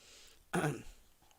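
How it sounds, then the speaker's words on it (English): One brief, gravelly throat clearing, close to the mic, against a quiet room background. "Excuse me for clearing my throat"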